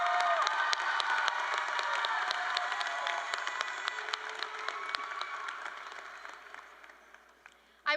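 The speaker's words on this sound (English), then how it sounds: "Please stand so we could give you a round of applause." Graduation audience at McQueen High School rising for a round of applause, dense clapping mixed with cheers and whoops that gradually fade toward the end.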